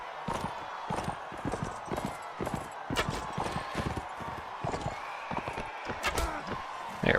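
Horse hooves gallop in the Mount and Blade: Warband video game, a quick, uneven clip-clop of thudding strikes that runs continuously at moderate loudness.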